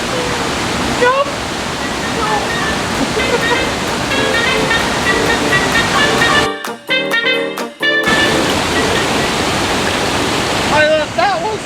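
A powerful waterfall in Jardín, Colombia roars loudly and continuously, throwing heavy mist, with a short muffled break where wind buffets the microphone, and excited voices shouting over the din.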